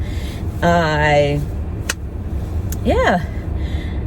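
A car engine idles as it warms up, giving a steady low rumble throughout, with brief voice-like tones rising over it.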